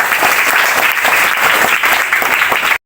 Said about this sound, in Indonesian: Tepuk tangan untuk saudara terhormat.